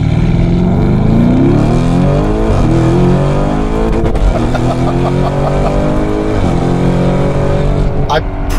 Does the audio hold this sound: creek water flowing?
no